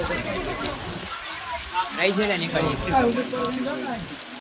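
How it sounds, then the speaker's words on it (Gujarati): Heavy rain falling in the Gir forest area amid strong, storm-like wind, a dense hiss of rain on surfaces with a person talking over it partway through. "જોરદાર વરસાદ વરસ્યો છે"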